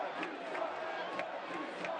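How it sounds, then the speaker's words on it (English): A stadium crowd at a 2023 Tampa Bay Rowdies versus Sacramento Republic FC soccer match jeers the officials, a steady, fairly distant roar with rising shouts throughout. "Crowd still letting our officials have it."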